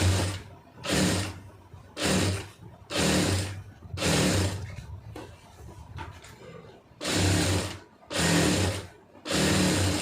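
A sewing machine stitches a lined blouse in a string of short, loud bursts, each lasting under a second, separated by brief pauses, up close with no voices.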